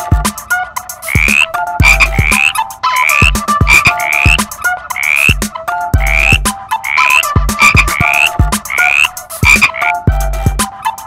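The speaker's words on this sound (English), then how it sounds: "A frog makes a grr sound." Repeated frog croaks in a steady rhythm, each a short raspy rattle with a rising trill, loud and close with no talking.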